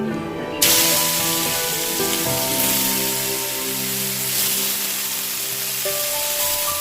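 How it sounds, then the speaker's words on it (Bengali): Chopped banana flower fritters dropped into hot oil, with a loud sudden sizzle bursting in near the start and continuing as a strong steady hiss over a background of tonal music. "তেলটা গরম হয়ে ভালো করে দিলেই আমি মোচাগুলো ছেড়ে দেবো"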